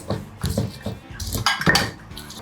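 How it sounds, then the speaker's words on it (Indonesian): A stone pestle grinds spices, lime leaf among them, in a stone mortar (ulekan) in a home kitchen, giving a run of repeated scraping, knocking strokes with sharper clinks near the end. "Lebih bagus diulek ya."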